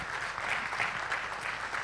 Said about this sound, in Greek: παρακαλώ ένα θερμό χειροκρότημα στο φίλο και τον αγαπητό σκηνοθέτη